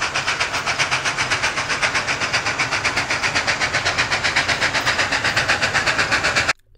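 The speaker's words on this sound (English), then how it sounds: "locomotive, it has a unique 1 2 3 1 2 3 1 2 3 1 2 3 1 2 3 1 2 3 beat to it." A Union Pacific three-cylinder steam locomotive chuffs loudly and close up, with a fast, even exhaust beat grouped in threes. The beat runs steadily, then cuts off abruptly near the end.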